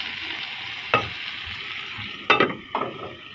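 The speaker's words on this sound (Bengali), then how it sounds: "এই তো দেখেন ভাজিটা করে ফেলছি" Vegetable bhaji, made with bot-boti beans, stir-fried in a pan, giving a soft steady sizzle with a few louder scraping stirs of the spatula near the end.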